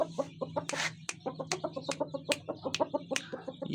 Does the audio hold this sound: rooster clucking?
yes